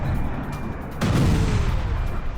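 A missile strike sets off an explosion at an oil depot, heard as a sudden loud boom about a second in. A heavy, broad rumble follows and stays steady for the rest of the moment.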